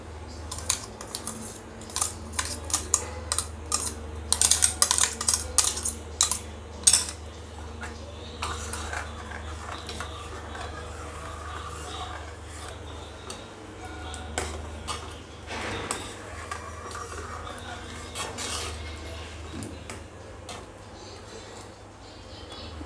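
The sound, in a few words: crushed rice being added to a pan for kheer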